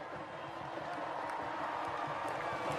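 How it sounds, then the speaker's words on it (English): Stadium crowd at the Fiji versus South Africa rugby sevens Cup final in Hamilton, New Zealand, in 2018 makes a steady, dense roar of applause and cheering that holds throughout without a break. "can I have a round of applause, please, for South Africa and Fiji"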